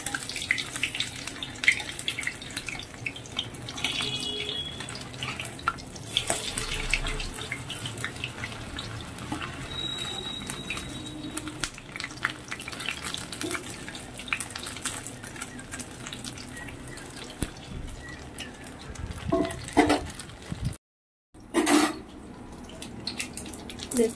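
Paneer pieces fry in a pan of hot oil, giving a steady close sizzle and crackle that runs almost without a break. Occasional clinks and stirring noises sit on top, and the sizzle stops for a brief moment near the end.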